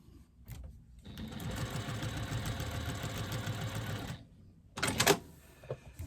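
Sewing machine stitching a pop-it pouch, running steadily for about three seconds in a close, even buzzing whir, then stopping, followed by a brief burst of handling noise.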